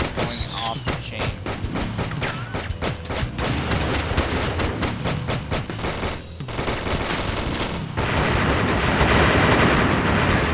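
Rapid bursts of gunfire in a flash video game crackle in dense volleys, loud and continuous, swelling into a heavier roar near the end.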